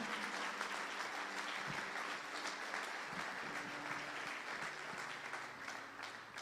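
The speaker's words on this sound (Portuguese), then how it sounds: "Você pode aplaudir ao Senhor." A church congregation applauds in continuous, dense clapping during a worship service, steady and fairly distant, with faint voices beneath.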